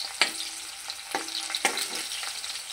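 Gundruk, fermented leafy greens, and onion fry in a pan, giving a steady, close sizzle broken by a few sharp scraping stirs and clinks of a spoon against the pan.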